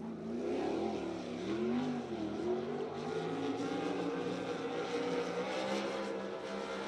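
A dirt track race car at BAPS Motor Speedway in York Haven, PA, its engine roaring steadily and loudly down the back straightaway, the pitch wavering as it drives toward turn three.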